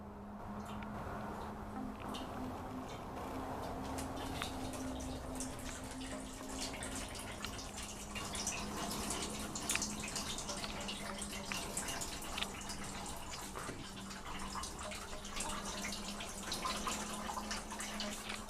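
A bathroom sink faucet runs on its own, giving a steady, moderately loud rush of water with faint dripping and splashing that continues unbroken throughout.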